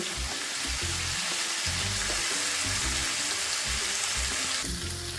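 Food sautés for an egg and cauliflower dish, a steady loud sizzle with a low rhythmic pulsing beneath it, brightening slightly near the end.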